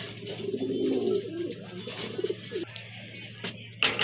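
Racing pigeons coo nearby in low, soft, throaty bursts, joined by a brief sharper call near the end, over a faint steady background hum.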